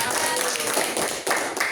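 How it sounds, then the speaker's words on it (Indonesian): Clapping from a classroom of students applauding a group that has just finished presenting in a lower-secondary science lesson, a short dense burst of many hands that fills the whole stretch, with some voices mixed in. "Tepuk tangan buat kelompok dua."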